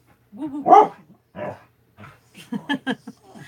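A pet dog coaxed into 'singing' gives a string of close yowls, grumbles and short bark-like yips, irregular and rising in pace toward the end.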